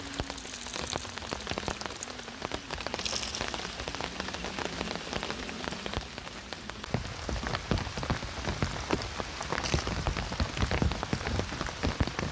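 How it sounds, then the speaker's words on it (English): Steady, dense rain patters on a floating off-grid bamboo cabin and the surrounding water, a continuous close hiss of drops with no voices. "The rain provides an unexpected stress test for the anchored pontoon."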